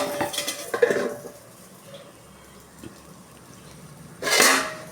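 A metal pot holding a boiled ripe banana dish gets its lid set on, with clattering clinks and scrapes at the start and a louder clank a few seconds later, close by.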